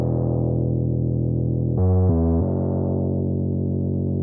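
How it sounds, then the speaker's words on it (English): A thick analog-style synth bass from Alchemy holds one long, steady tone for a tropical reggaeton track, with a brief shift to a different note in the middle before it settles back. "Underneath that, I'd added an analog bass from Alchemy."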